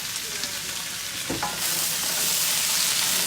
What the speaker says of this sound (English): Then I kind of let it cook on its own a little bit.